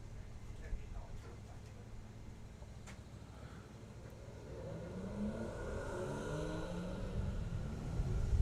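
A Porsche Cayenne drag racing in sportsman competition at a summer nationals event, a distant engine roar building and rising in pitch as it accelerates down the strip, with a commentator's voice faintly present.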